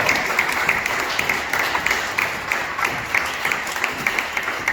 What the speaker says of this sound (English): So let's give a round of applause to Dwayne Moore.